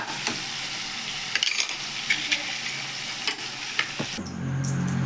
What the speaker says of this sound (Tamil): வதக்கின பொருளெல்லாம் மிக்சி ஜாரில் சேர்த்துடலாங்க.